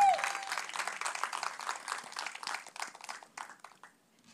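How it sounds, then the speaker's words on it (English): Applause from a conference audience welcoming a guest onto the stage at a women-in-cinema event, a brisk burst of clapping that thins out and fades over about four seconds. "can I have a big round of applause for him"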